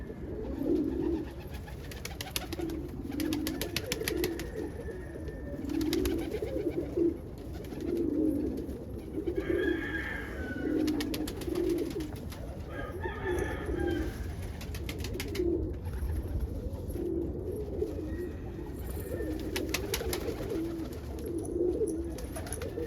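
Black grizzle roller pigeons cooing in a loft, soft repeated low coos in a steady rhythm with a few brighter chirps and wing flutters, close and continuous, no talking.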